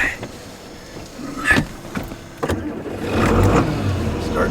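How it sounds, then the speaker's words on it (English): A farm tractor's engine cranks and catches in short bursts and then settles into a steady running rumble, close by in the cab, with light handling noises around it. "Start the engine back up."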